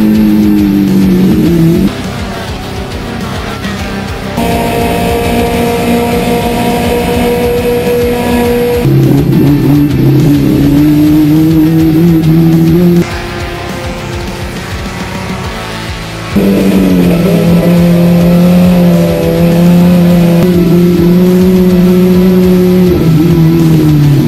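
Gold Turismo race car engines rev loudly at Interlagos, a continuous close roar of several motors whose pitch climbs and shifts through gear changes, with no talking.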